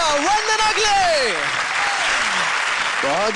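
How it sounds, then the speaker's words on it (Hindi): A studio audience on the Dance India Dance TV show breaks into loud, continuous applause for two dancers, with a host's voice carrying over the top. "जोरदार तालियां हो जाए कृति और वंदना के लिए"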